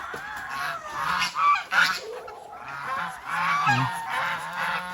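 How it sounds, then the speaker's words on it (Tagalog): Several geese honk loudly and repeatedly nearby, hungry and squabbling, their calls overlapping in noisy bursts. "pakainin muna natin yung ano, yung mga gansa at saka bibi"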